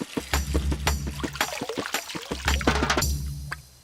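Water pours from a tap into a pot in bursts of splashing and trickling, close and fairly loud, before the flow cuts off near the end.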